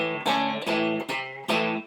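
An overdriven electric guitar plays a short blues riff, four punchy chord stabs, loud and close, with a gritty sustained tone.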